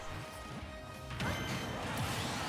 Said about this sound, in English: he gets a strong hit of his own with forward smash